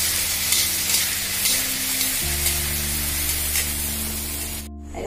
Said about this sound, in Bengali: আর একটা আছে, এটা ভেজে নেবো, ব্যাস হয়ে গেল আমার লুচি ভাজা।